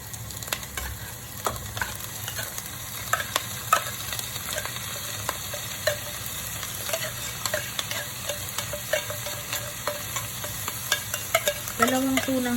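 Onions and tuna frying in a pan for tuna pasta, a steady sizzle broken by repeated scraping and stirring clicks of a utensil against the pan, close and continuous with no talk.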